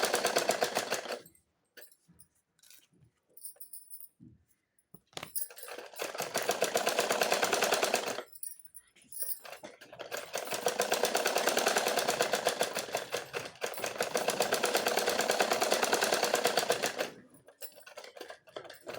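A sewing machine stitches a plain blouse in several bursts of rapid mechanical whirring, a short run first and then longer stretches separated by brief quiet gaps.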